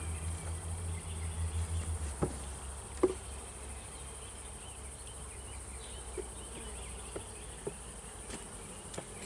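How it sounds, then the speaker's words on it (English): Honey bees hum around an open hive during an inspection, a faint, steady, close buzz with a few soft taps and knocks. "That little bee there, she's sitting there just on my finger."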